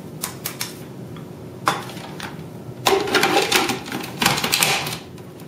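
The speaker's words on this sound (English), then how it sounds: "And a very generous grinding of pepper." A pepper mill grinds a generous amount of pepper while pesto sauce is made, giving bursts of dry, rasping crunching, a few short twists followed by two longer, louder grinding runs nearby.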